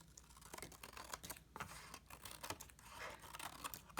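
Quiet crisp snipping and crinkling, a run of short cuts close by with light paper rustle between them.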